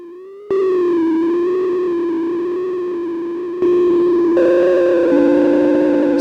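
Prophet-5 synthesizer playing sustained notes with a wavering vibrato, a bright buzzy tone that steps up in pitch partway through, loud and alone with no talk.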